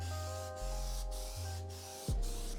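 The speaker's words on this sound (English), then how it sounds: "We're gonna spray it all over this RC body because you can see it's clear." Developer spray from an aerosol can hissing onto a clear RC car body, heard close as a few sustained sprays broken by brief pauses.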